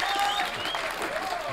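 A brief burst of steady audience applause fills the room, dense and continuous clapping from a crowd with faint voices mixed in.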